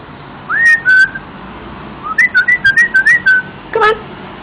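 A pet parrot whistles a short rising-and-falling tune, two notes first, then a quick run of chirpy whistled phrases and a final flourish, close and clear over a quiet room.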